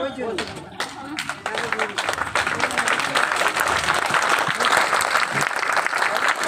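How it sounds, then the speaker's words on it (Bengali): An audience claps hands in a dense, steady wave of applause that builds and holds for several seconds, with a voice talking over it. "থার্টি পার্সেন্ট মানুষ শিখছে হাততালি দেওয়া"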